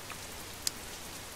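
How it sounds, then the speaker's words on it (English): Rain created in Unreal Engine 4 hisses as a steady, even wash of drops with one brief brighter tick partway through, heard alone. "I spent today working on this wonderful Rain here"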